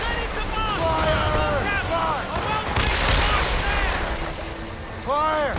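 Ship cannons fire in a naval battle in Assassin's Creed Rogue, several deep booms and crashes rolling over ocean ambience, with shouted crew commands and voices layered over the gunfire.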